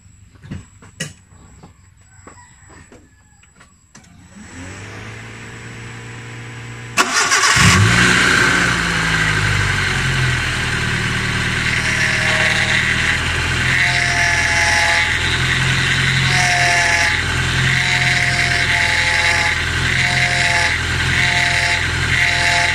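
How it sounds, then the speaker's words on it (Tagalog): A car is started after a quiet stretch and settles into a loud close idle, then the steering wheel is turned and a rising, wavering whine sounds over the engine several times. "nung pinipihit yung manubela para may tumutunog na parang crank"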